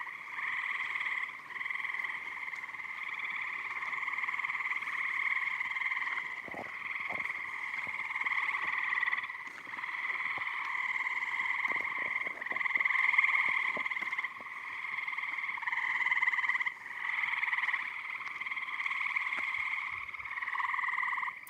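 A dense, continuous chorus of frogs croaking loudly at night, pulsing steadily throughout with no talking.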